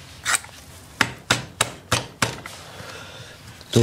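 Sharp metallic hammer blows strike a motorcycle part close by, six or seven hits in an uneven rhythm with short ringing decays, no talking.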